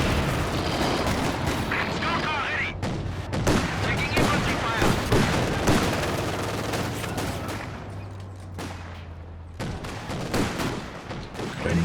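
Battlefield gunfire and explosions in the Company of Heroes 2 strategy game, including mortar fire, with dense repeated booms and crackling shots in irregular bursts throughout, mixed with a game voice talking.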